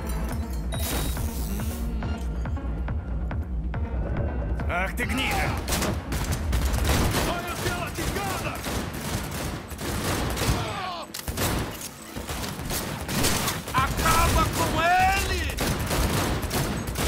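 A gunfire shootout in the Cyberpunk 2077 video game, with dense bursts of shots and automatic fire rattling loudly and almost continuously, while voices speak over the battle.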